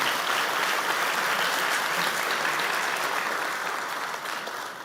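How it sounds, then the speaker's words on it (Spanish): Concert audience applauds the lighting and sound technicians at a world harp festival in Asunción, Paraguay, a full dense ovation that holds steady then slowly tapers off near the end. "Un aplauso para nuestros técnicos"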